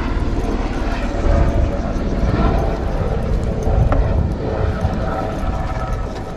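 A helicopter flies overhead with a loud, continuous engine and rotor roar that swells and fades slightly, while people's voices come through in the mix.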